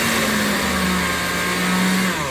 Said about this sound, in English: I'm blending it a little bit in the blender